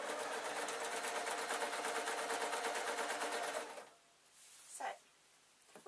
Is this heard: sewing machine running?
yes